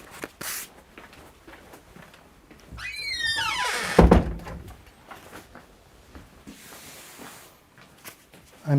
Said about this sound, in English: You'll hear the door squeaking.